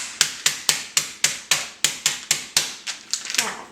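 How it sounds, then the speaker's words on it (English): A meat hammer pounds chicken pieces inside a bag in a steady run of sharp, close smacks, about four per second, loosening into quicker, softer taps at the end. "you take the flat end of a meat hammer or a rolling pin would work"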